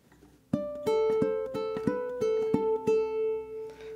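Ukulele plays a rock walk-down riff, a string of plucked notes stepping downward with ringing sustain, clear and close, no voices.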